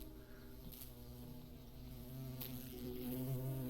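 A bee buzzes steadily around flowers inside a video game scene, a continuous droning hum that holds close and grows slightly louder toward the end, with no talking.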